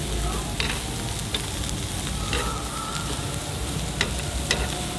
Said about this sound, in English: here's the other grill going with some of the marinated meats, the other kebabs, the shrimp,